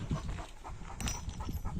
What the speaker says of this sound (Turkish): Böyle devasa bir köpeğe arkadaşlar Minik ismini takmışlar.